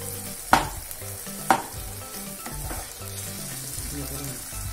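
Potatoes cooking in a pan with water over a low gas flame, a soft steady sizzle and bubbling with two sharp clinks of a utensil against the pan, fairly quiet and close, no talking.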